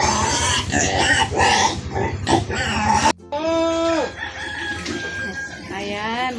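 Pigs grunting, squealing and oinking loudly and close by during feeding, mixed with a rooster crowing and clucking fowl, continuous and busy throughout with a brief break partway.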